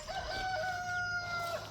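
A black rooster crows once in a backyard garden coop. The long tonal call holds for well over a second and sounds fairly faint and distant over a soft background hiss, with no talking.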